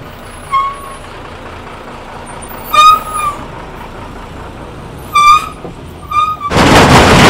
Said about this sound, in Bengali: এই লরি পাস করছে